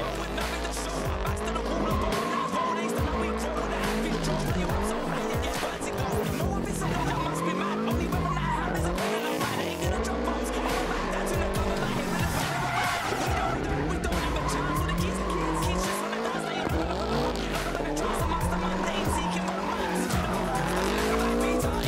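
Cars drifting at the Red Bull Car Park Drift event in Mauritius, engines revving and wailing in rising and falling sweeps over continuous loud tire squeal and skidding, with a voice talking over the action.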